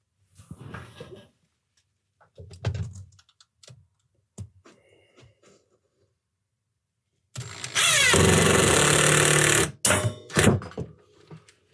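A power drill in a workshop whirs loudly in a single sustained burst of about two seconds, set among scattered clunks and handling noises and then quiet stretches.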